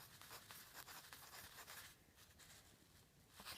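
Soft, faint scratching of a pen moving across paper in a quiet room, a series of short strokes followed by a pause and one more quick mark.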